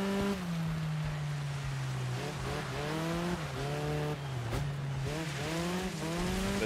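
A Mustang race car in the racing game Dirt 5 on an icy track, its engine droning steadily as it rises and falls through gear changes, with tyre hiss in the background and no one talking.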